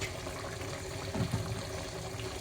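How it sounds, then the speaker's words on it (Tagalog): Boiled water pours into a pot of chicken soup with a soft, brief splash and gurgle over a steady background hiss. "Lagyan na natin siya ng pinakuluang tubig."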